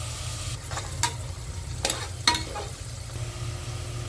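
Onions and mutton fry in a pan with a steady sizzle, broken by a few sharp scraping stirs of a spoon, close and moderately loud.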